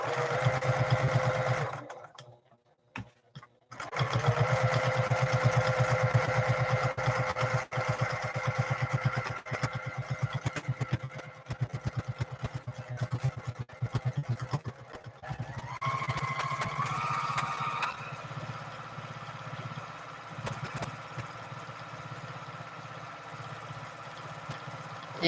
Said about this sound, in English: I'm sewing a little bit hard here.